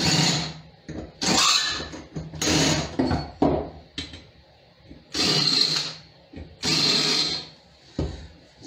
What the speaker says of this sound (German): entgraten.